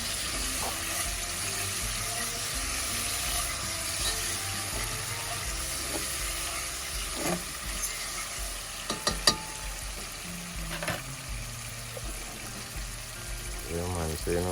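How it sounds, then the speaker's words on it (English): Salt mackerel frying in a pan for Jamaican ackee and saltfish, a steady close sizzle running throughout with a few clinks and stirring knocks, and a voice speaking briefly near the end. "I'm going to just fry them up in one."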